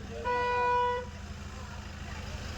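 A single loud, sustained blast of a bus horn lasting under a second, over a low rumbling engine idle.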